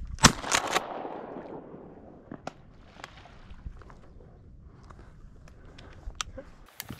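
Shotgun fire during a marsh duck hunt: a sharp, loud blast with a couple of quick follow-up reports, then a long decaying echo and scattered faint thumps and rustles outdoors.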